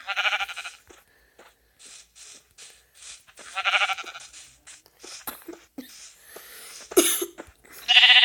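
Sheep bleating in the Hardcraft video game, several short wavering bleats repeating through the stretch, fairly close, mixed with a few clicks and effect sounds and no talking.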